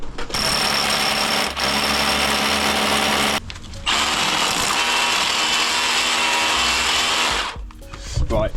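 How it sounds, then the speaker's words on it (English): A power drill whirs loudly and continuously drilling through a wall, pausing briefly midway before grinding on again, then stopping near the end. "So we'll get working on that, get the drill through there."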